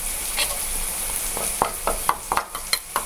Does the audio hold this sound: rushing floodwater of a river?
no